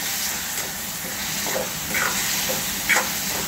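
Partly cooked cucumber stir-fried in a pan, a steady close sizzle with soft scraping stirs, even and continuous, no voices.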